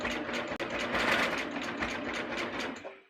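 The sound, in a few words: sewing machine stitching a fabric thumb cuff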